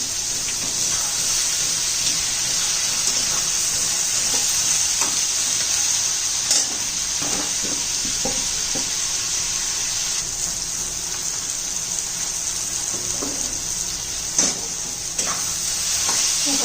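Onions sizzle steadily in a pan while being cooked down for chicken biryani, a continuous close, bright frying hiss with occasional stirring clinks and scrapes running throughout.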